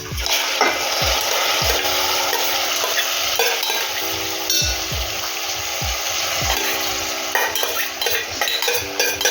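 Grated, cooked cucumber stirred in a pot for a traditional village dish, loud repeated scraping strokes of a spoon against metal at an irregular rhythm over a continuous frying sizzle, close up with no voices.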